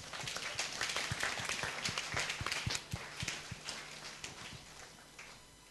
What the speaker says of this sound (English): Come on, give the Lord a clap of hands.